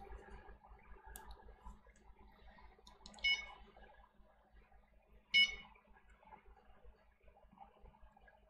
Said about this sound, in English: I've got two rods beeping